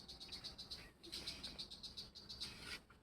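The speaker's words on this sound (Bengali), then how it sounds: "পাখি ডাকতেছে।" Birds calling outdoors at a rural home, a rapid run of faint high chirps and tweets repeating in quick bursts, with a soft insect-like buzz underneath and no clear talk.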